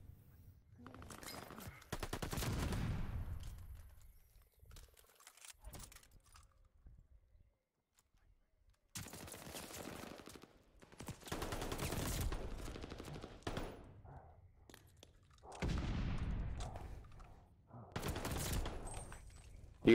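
Bursts of automatic gunfire rattle around a Call of Duty hardpoint on the Bocage map, arriving in several separate volleys of rapid shots with quiet gaps between them.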